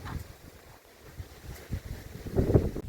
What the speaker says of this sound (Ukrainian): Вітер такий в нас, що просто капець.